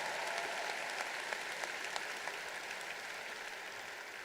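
Applause from a high school graduation crowd, a steady dense wash of clapping sustained throughout, moderately distant and even in level.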